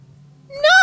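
A cat in the Mad Father horror game lets out a single short, rising meow after a low hum, loud and close, lasting under a second.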